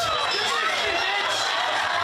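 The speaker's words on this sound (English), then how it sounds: "Well, he knows how to get the crowd excited." A pro wrestling audience buzzes with excited cheering and chatter, a constant dense crowd roar filling the arena without letup.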